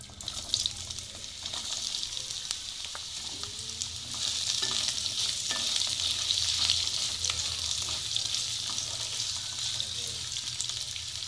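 Cut potatoes dropped into hot tempering oil of whole cumin in a pan sizzle loudly and steadily, the hiss swelling as they are stirred, close up with occasional spoon scrapes and no talking.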